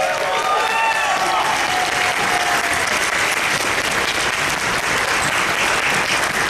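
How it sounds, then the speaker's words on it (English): Audience at a convention closing ceremony bursts into sustained, dense applause, loud and even across the whole stretch, with a few cheers and whoops rising above the clapping early on. "Let's give them a round of applause again."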